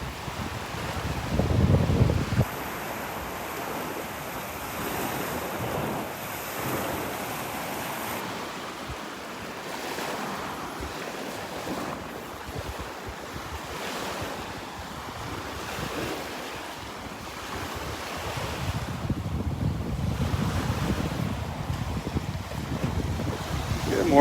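Ocean waves wash ashore on Delnor-Wiggins beach on a cloudy morning, a continuous close roar of surf with gusty wind buffeting the microphone throughout.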